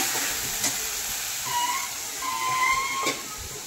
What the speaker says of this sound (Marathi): मस्त मसाला तळसून घेते।